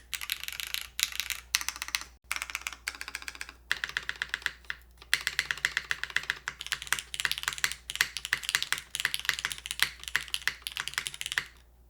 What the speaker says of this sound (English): I'm hearing a plasticky sound and I'm wondering if that's the PC top for top mount.